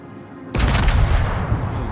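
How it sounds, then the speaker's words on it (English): Heavy naval guns of an American dreadnought battleship fire in World of Warships, a loud booming salvo that erupts suddenly and rolls on in a sustained roar after a quieter opening. "And I usually start shooting once I'm detected."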